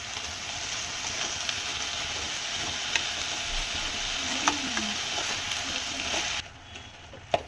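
Drumstick leaves (murungai keerai) cook in a pan for a stir-fried poriyal, giving a steady, close sizzle with light stirring and scraping that drops away near the end.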